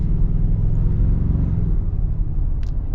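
A 2025 Toyota Tacoma TRD Off-Road hybrid pickup accelerating, with a steady, loud low engine rumble and drivetrain drone that eases slightly toward the end, and a brief faint high hiss near the close.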